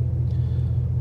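A Ford Transit Custom RSV Sport van rolls over a rough, worn road surface, heard as a steady, heavy low rumble inside the cabin with no speech.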